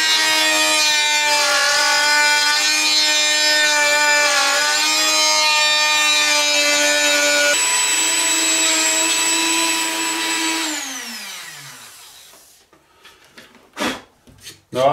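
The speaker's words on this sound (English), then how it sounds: "this Dremel is 175 watts, so this thing should be capable of running it." A 175-watt Dremel rotary tool routing wood for a hinge recess gives a loud, steady high-pitched motor whine for about ten seconds, then winds down in falling pitch, followed by a few faint knocks.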